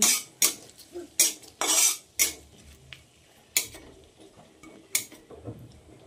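A spoon scrapes and clanks against a cooking pan as tomato and spices are stirred, giving a series of sharp, irregular metallic strokes separated by short quiet gaps, close and fairly loud.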